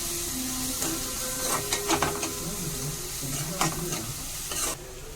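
Turmeric powder and curry masala fry in hot oil with green chillies, a continuous close sizzle broken by repeated scraping strokes of a spoon stirring the pan.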